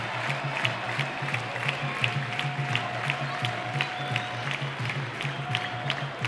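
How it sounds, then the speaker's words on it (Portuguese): Gama football supporters cheering in the stadium at a Candangão match, a distant crowd roar with rhythmic clapping or drum-like beats repeating steadily throughout. "Aí a festa da torcida."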